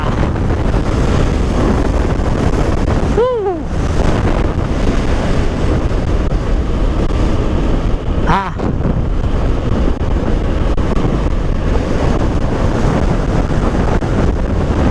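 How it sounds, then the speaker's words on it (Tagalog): Loud, constant wind roaring and buffeting across the microphone, with two brief whooshing sweeps passing by and no speech. "Baka sa racetrack ko na lang ulit maranasan yung gantong kalakas na hangin."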